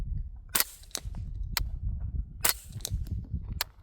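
Six sharp, separate cracks from a TriStar KR22 .22LR rifle firing subsonic rounds at a range, spaced unevenly over a few seconds and fairly close, with a low background rumble between shots.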